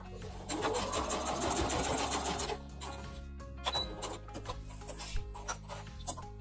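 A sewing machine backstitches a seam on an infinity scarf, a close steady mechanical whir lasting a couple of seconds, followed by quieter clicks and handling sounds.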